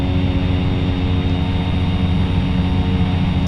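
An aircraft at full power on John Wayne Airport runway 20 left during takeoff: a steady, loud, broadband engine roar that holds evenly throughout without pauses, with a low droning hum underneath.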